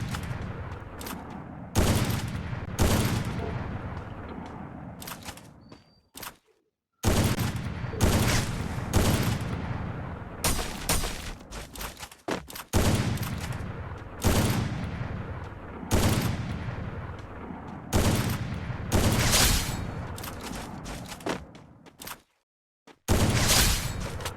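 Rapid bursts of gunfire in the mobile battle royale game Free Fire, including sniper rifle shots, loud and close, firing in repeated clusters with brief silent gaps between them.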